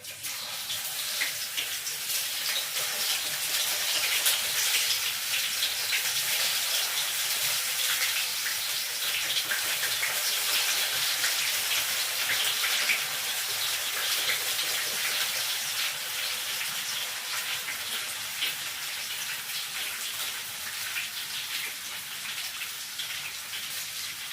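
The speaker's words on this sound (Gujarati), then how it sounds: "હવે તેલ આવી ગયું છે એટલે હવે આપણે આ રીતે વેફર પાડી દઈશું." Banana wafers frying in hot oil make a steady, dense crackling hiss that stays loud and even for the whole stretch, with no talking.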